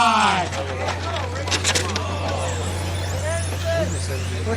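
Radio-controlled touring cars race at an open modified main event, their high whining motors sweeping past in rising and falling passes under a race announcer's voice, with a constant low electrical hum underneath.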